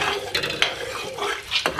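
A spoon scrapes and clatters in a pan as korma masala is stirred into an egg masala, with close metallic scraping strokes over a faint sizzle.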